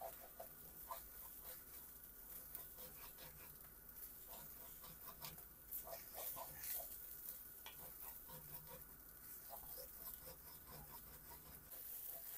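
A wooden ladle scrapes and stirs tinapa flakes frying in a pan, a soft continuous sizzle broken by faint, irregular scraping strokes, with a rooster-like cluck faint in the background.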